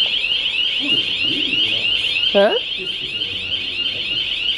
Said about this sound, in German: Alarmanlage.